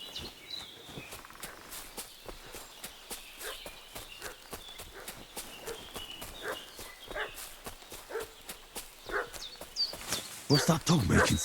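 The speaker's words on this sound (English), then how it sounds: "What's that dog making such a fuss about?" Dog barking in the medieval video game Kingdom Come: Deliverance 2, repeated barks mixed with footsteps and hoofbeats, with a louder burst of barking near the end.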